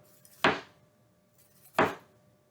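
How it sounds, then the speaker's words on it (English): Two sharp, separate knife chops on a cutting board while vegetables are cut for vegetarian fajitas, close and crisp with a quiet gap between strokes. "So we're going to just chop them up all first, okay?"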